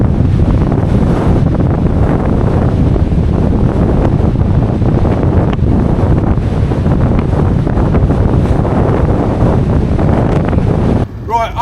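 North Atlantic waves pounding the Irish coast in strong wind, a dense, loud, continuous roar of surf with heavy wind buffeting the microphone, cutting off abruptly near the end.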